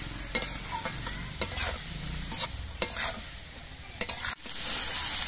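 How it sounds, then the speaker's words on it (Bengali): Bottle gourd peels stir-fried with salt, turmeric and slit green chillies, a steady close sizzle broken by about six sharp scraping strokes of a spatula against the pan, no voices. "এবার সব দিয়ে নেড়ে চেড়ে মিশিয়ে ভেজে নিতে হবে।"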